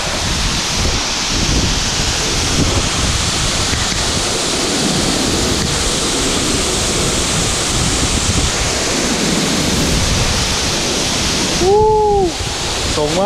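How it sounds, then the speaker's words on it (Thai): A waterfall roars in a steady, loud wash of rushing water close by. The sound holds constant throughout, with a brief whistle-like tone near the end. "บริเวณน้ำตกนะเนี่ยทุกคนรอบๆแรงมาก"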